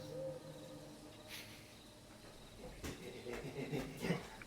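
An owl hoots softly in a quiet setting, a few low, faint calls spread across a few seconds against background hush.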